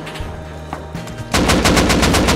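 Rapid automatic gunfire from the survival game Rust rattles loudly in a fast regular burst after a quieter stretch of ambient game noise.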